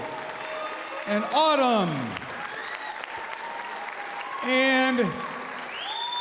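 Students' names are read out at a school event and an audience claps steadily in the background. A voice speaks briefly over the applause, with whistles or squeals rising and falling twice.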